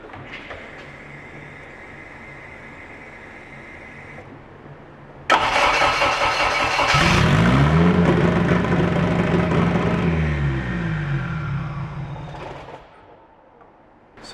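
A K-swapped rear-wheel-drive car cranks and fires after a low hum, then revs up sharply to a 2,000 RPM redline, holds, and winds back down to a quieter idle, loud and close.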